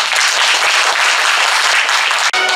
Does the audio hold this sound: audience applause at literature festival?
yes